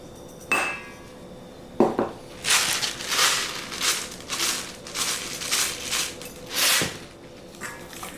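Sliced onions are pushed and packed into a jar for refrigerator pickled onions, giving a run of close, rhythmic squeaky crunches and rubbing, punctuated by a few sharp clinks against the glass.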